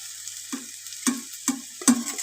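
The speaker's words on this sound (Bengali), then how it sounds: "এবার আমি দিচ্ছি আদা রসুন বাটা।" Ginger-garlic paste hitting hot oil with browned fried onions, giving a few separate bursts of sizzle and stirring scrapes in a quiet kitchen, each burst close and brief.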